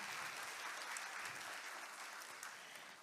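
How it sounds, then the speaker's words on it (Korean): Steady applause from an audience at a launch ceremony, a continuous wash of clapping heard from a distance at low volume, with no voices standing out. "여러분 힘찬 박수 다시 한번 부탁드립니다."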